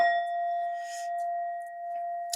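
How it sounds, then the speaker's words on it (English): A metal singing bowl with a small Buddha figure inside rings out with a sustained, steady shimmering tone that hangs evenly throughout, with a faint light tap near the end and no talking. "I always have my metal bowl with the little Buddha inside"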